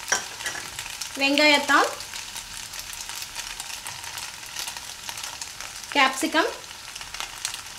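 Onion, capsicum, cabbage and other vegetables sauté in a pan for white sauce pasta, giving a soft, steady sizzle with light stirring, while a voice speaks briefly twice.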